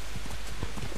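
Quick clip-clop of horse hooves trotting in Kingdom Come: Deliverance, steady and fairly close, against a constant noisy background hiss.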